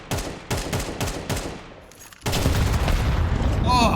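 Gunfire in a Counter-Strike match, four quick rhythmic bursts of shots, a brief lull, then a louder sustained stretch of fire with talking over it.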